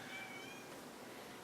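A cat meows in a movie scene, a single drawn-out cry that is fairly loud and close over a steady noisy background, with no talking.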